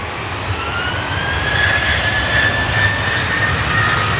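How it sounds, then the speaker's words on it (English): A Ryanair jet takes off from the runway at Manchester Airport, its steady engine roar loud and continuous throughout with a rising high whine layered on top, no voices present. "Here goes the Ryanair for Carcassonne."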